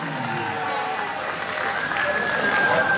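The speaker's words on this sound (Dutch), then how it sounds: "Dames en heren, mag ik een applaus voor deze twee kanjers?" Crowd applause at a kickboxing event after a bout, steady dense clapping with some cheering and a whistle-like tone rising in the mix, while a voice talks over it.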